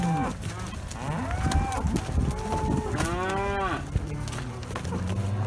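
Cattle herded toward a squeeze chute moo repeatedly, several loud drawn-out calls close by over a rustling, shuffling background.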